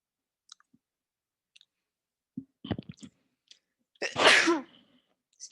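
A single loud sneeze bursts out near the end, preceded by scattered soft clicks and rustles in an otherwise quiet room.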